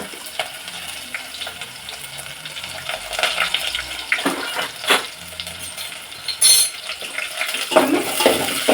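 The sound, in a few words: onions and garlic sizzling in hot oil for sambar tempering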